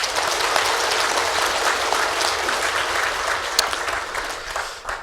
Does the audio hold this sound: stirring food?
no